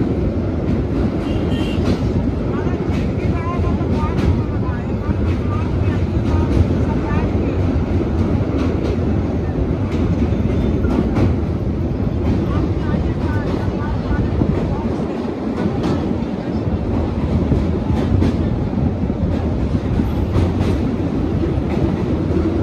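A moving train rumbles steadily as it crosses a bridge, with continuous rattling and clattering of the carriages filling the whole stretch at a loud, even level.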